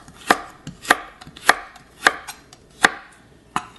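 Carrots chopped with a knife on a cutting board, six crisp, evenly spaced chops close by, each a sharp knock against the board with quiet gaps between.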